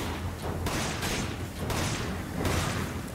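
Rapid bursts of magnum gunfire in the video game Resident Evil 5, several loud cracking shots in quick succession with a booming tail, no talking.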